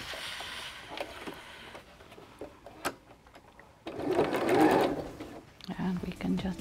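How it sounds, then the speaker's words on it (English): A sewing machine stitches pieces of scrap quilt fabric together, with short bursts of running and then a louder, longer run near the end, under and between moments of quiet talk. "We are going to sew them together in the same way."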